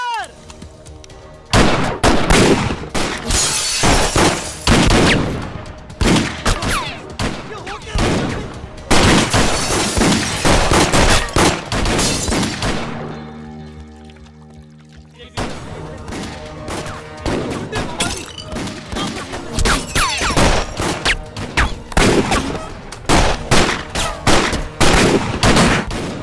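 Gunfire bursts in a comedy movie scene, rapid loud volleys of shots crackling with a brief lull in the middle before another heavy barrage, with voices heard among the shooting.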